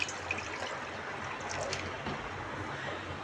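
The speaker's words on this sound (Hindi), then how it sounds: "इसके अंदर पानी डालता हूँ।" Water splashes and trickles steadily into a container on an induction heater for a few seconds, a continuous close-up pouring sound with no talking.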